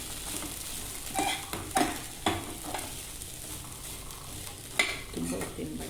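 Sprouted beans are stirred and fried in a pan, a soft steady sizzle under repeated utensil scrapes and knocks against the metal, with a few sharper clinks.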